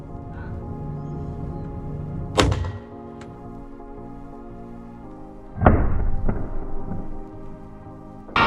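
Air pistol shots at an indoor shooting range in Daegu, Korea: two sharp, loud cracks a few seconds apart, each with a brief rattling tail, over a steady low hum of room noise.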